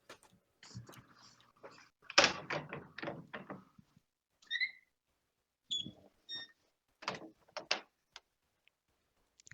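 In the Roblox game The Conquerors 3, a door opens and shuts with a string of short mechanical clunks and rattles, then a few high electronic tones, brief separated bursts against silence.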